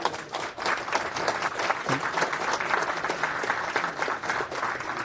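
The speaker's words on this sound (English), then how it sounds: "So a round of applause." A conference audience applauds for the next speaker at a Rust and WebAssembly talk, giving dense, sustained clapping that fills the whole stretch evenly.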